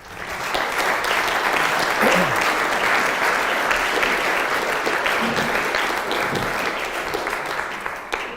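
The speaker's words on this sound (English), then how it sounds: "Give yourselves a round of applause." Applause from a concert audience for young artists at a Schubert Winterreise recital in a museum, a dense, steady wash of clapping that holds at full strength for the whole stretch.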